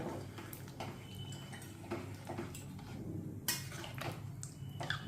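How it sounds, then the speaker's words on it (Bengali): A spoon stirs potato curry with hot water in a pot, clinking and scraping against the metal in irregular knocks over a low simmering background, no speech. "দিয়ে এবার ভালো করে নেড়ে মিশিয়ে নেব"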